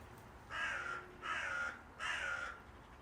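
A bird caws three times outdoors at an even pace, each harsh call lasting about half a second, moderately loud over a faint background hiss.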